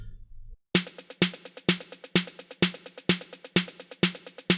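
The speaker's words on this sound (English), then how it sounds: "The pack contains 10 long snare fills, which you can use in your build-ups" Long snare drum fill sample of the kind used in dance-music build-ups: ten evenly spaced, loud, crisp snare hits in a steady rhythm, each with a short ringing tail, heard alone.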